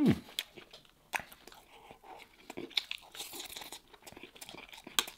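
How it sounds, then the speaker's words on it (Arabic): Close-up eating of a bite of lamb kabsa with Tabasco sauce: soft irregular chewing and wet mouth sounds with a few sharper crunchy clicks, quiet and intimate. "وخلونا ناكل لنا لقمة بالتباسكو"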